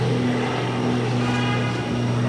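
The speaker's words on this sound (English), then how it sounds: "This is Cape Air 1030, taking off on the Cessna 402C." A Cape Air Cessna 402C twin-propeller plane taking off: a steady droning engine with a clear tonal buzz, continuous and fairly close throughout the short stretch.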